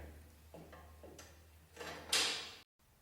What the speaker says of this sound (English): Put this other door on so you can see the whole picture.